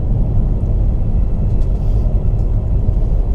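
Supercharged V8 of a Holden HSV GTSR roars at full throttle through Galston Gorge, a loud, steady, deep engine rumble that keeps going throughout with no voices over it.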